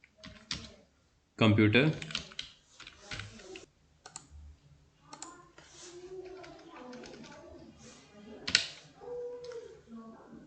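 Typing a heading on a computer keyboard in a word-processing document, a loud clattering burst of keystrokes and then scattered lighter clicks under a voice that keeps talking.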